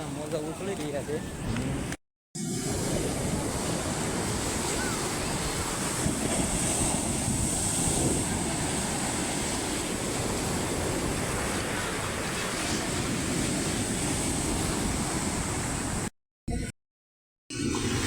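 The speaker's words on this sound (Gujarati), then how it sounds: "મસ્ત મજાના મોજા ઉછળી રહ્યા છે." Sea waves surge on the shore at Jhanjhmer during light drizzle, a continuous washing roar buffeted by wind against the microphone. A voice can be made out faintly under the surf, with a few brief dropouts.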